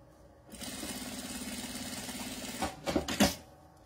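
A sewing machine stitches a seam joining nylon and fabric. It whirs steadily and fast for about two seconds, then gives a few short, clattering bursts as the stitching stops and the material is adjusted.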